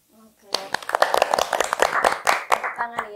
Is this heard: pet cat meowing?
no